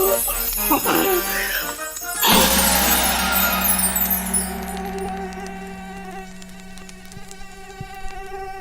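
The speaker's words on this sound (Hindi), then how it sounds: "ए मच्छर, तेरी हिम्मत कैसे हुई इतनी हंसी चेहरे पर बैठने की?" A mosquito whines in a high, thin buzz that swells after a jumble of clatter, then fades back among quieter background music and scattered clicks.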